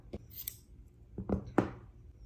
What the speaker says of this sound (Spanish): cortamos la hebra